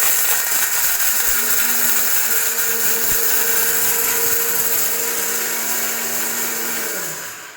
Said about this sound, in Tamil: இது கூட வந்து கொஞ்சம் கொஞ்சமாக நம்ம கருவேப்பிலையும் ஆட் பண்ணி அடிச்சுக்கலாம்.